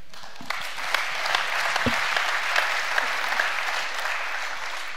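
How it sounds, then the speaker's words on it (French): Audience applause at a round-table session of a security forum: sustained, dense clapping from a sizeable crowd, steady and fairly loud throughout with no voices. "Les applaudissements que vous venez de donner"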